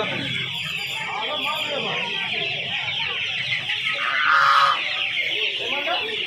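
Chickens clucking amid the bustle of the Uluberia hen market, a dense continuous chatter of fowl with a rooster-like call rising briefly near the end, under steady crowd noise.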